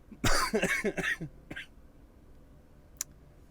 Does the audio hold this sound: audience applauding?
no